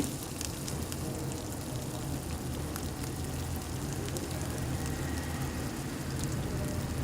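Tomatoes and spices sautéing in oil for a katla fish curry give a steady, close crackling sizzle that runs unbroken for the whole stretch with no talking.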